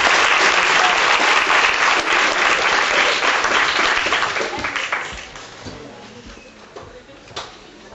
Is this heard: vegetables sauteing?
no